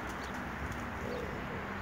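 Soft cooing of pigeons in Elbląg, Poland, low and faint against a steady background hiss, a few gentle calls repeating.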